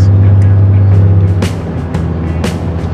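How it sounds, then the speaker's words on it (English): Highway traffic running beside the Salmon River: a steady low engine drone, then several vehicles whooshing past in quick succession, loud and close, with no voices. "the bad part's always having the highway next to the river"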